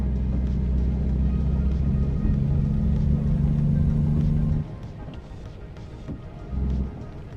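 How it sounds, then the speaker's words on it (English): Rain falls in the American Truck Simulator video game: a steady, dense hiss of rain over a deep truck-engine drone. Both drop to a quieter, sparser patter about midway, then briefly swell again. "It's been raining a lot here in game."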